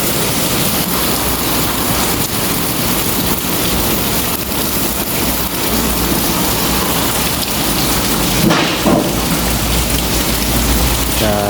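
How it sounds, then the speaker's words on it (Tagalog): Heavy rain pours steadily in a dense, loud hiss, with low rumbles of thunder underneath and a brief louder burst near the end. "Grabe yung ulan."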